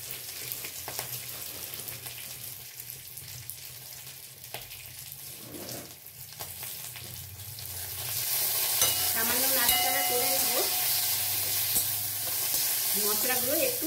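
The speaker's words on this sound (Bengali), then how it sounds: "মশলাগুলো একটু ভেজে নেব" Whole spices and bay leaves fry in hot oil, a soft crackling sizzle with occasional stirring clinks that grows louder and brighter in the second half.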